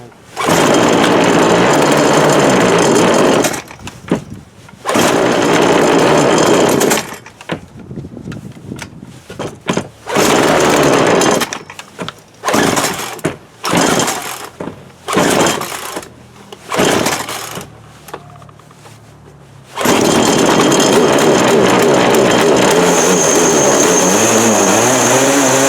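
Poulan Pro 42cc PP4218A chainsaw with running issues, loud close engine roar that revs, then sputters and cuts out in choppy bursts before picking back up to a steady full-throttle drone.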